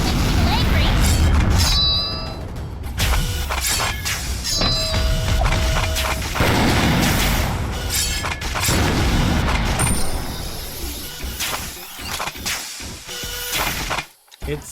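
Explosions from the video game Cavalry Girls go off in repeated booms and crashes amid mechanical clatter and shattering debris, loud and busy across the scene with a voice talking over parts of it.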